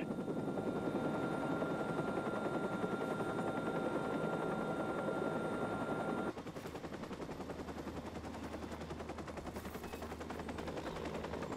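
A helicopter's steady rotor drone fills the scene in the video game Watch Dogs, joined midway by bursts of rapid gunfire and clattering action sounds.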